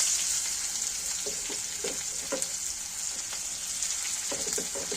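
Chopped onion frying in oil with a bay leaf and white cumin, a steady broadband sizzle with scattered spitting pops and light stirring scrapes throughout, close and continuous with no talk.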